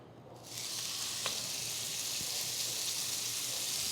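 A steady, bright sizzle of a porterhouse steak searing in a hot pan starts abruptly and holds evenly, close and fairly quiet.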